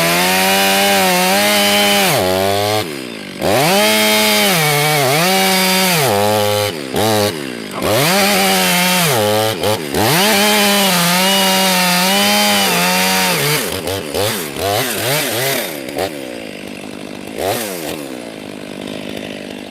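Chainsaw bucking butchered black locust into firewood, cutting a thick round off the log: loud, close engine revving in repeated rising and falling bursts, with brief idle gaps between cuts, no talk.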